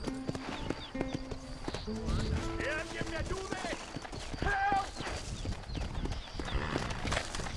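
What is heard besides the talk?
horse hooves and neighing in the video game Red Dead Redemption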